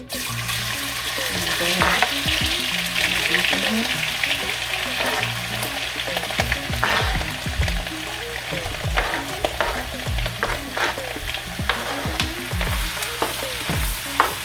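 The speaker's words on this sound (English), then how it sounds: "I'm gonna get our beef on. As you can see, the pot is very, very hot." Beef cubes sear in a very hot pot with a stick of unsalted butter, giving a steady, loud sizzle with occasional stirring scrapes throughout, and no talking.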